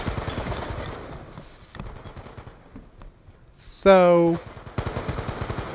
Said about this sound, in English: we finally switched over to the last gun. The AN-94, what a big, large gun